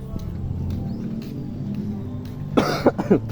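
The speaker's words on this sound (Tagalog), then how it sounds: "Ubo tayo guys." Over a low background hum, someone coughs about three times in quick succession near the end.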